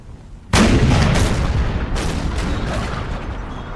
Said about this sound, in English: Looks like their cannons are getting ready to fire here.